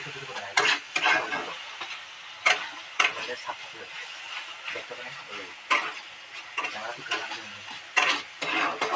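Meat masala frying in a small home-kitchen pan, with a soft continuous sizzle broken by sharp, irregular scrapes and clicks of a utensil stirring the spice mixture.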